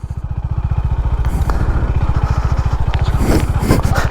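A Honda Highness CB 350 motorcycle thumps along off-road over potholes and stones, its rapid, even single-cylinder exhaust pulse loud and close, with scattered clatter and scraping from the rough ground.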